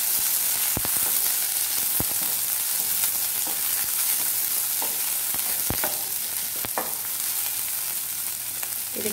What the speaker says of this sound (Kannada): ಇದೀಗ ಒಂದು ದೊಡ್ಡ ಈರುಳ್ಳಿ